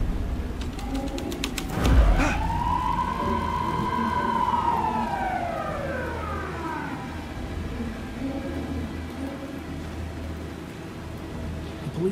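A police car siren in the video game Alan Wake 2 rises and falls once in a single slow wail, moderately distant, over a sustained rain-like hiss and low rumble, preceded by a sharp thud.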